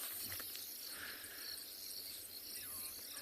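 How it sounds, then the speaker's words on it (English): Dense chorus of frogs calling in the South African bush after rain, a continuous shrill trilling carpet with faint breeze underneath and no voices. "you can still hear a lot of the frogs in the area"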